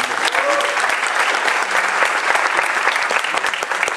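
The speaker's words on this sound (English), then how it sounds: "I would ask you to give an applause individually as I call out their names for each of our candidates" Applause from an audience at a homeowners association council forum as candidates are introduced, a steady burst of clapping from a modest crowd, close and fairly loud for the whole stretch.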